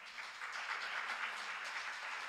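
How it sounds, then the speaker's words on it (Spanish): A church congregation applauding in a steady, even wash of clapping that runs throughout, faint and somewhat distant. "¿Le das un fuerte aplauso al Señor?"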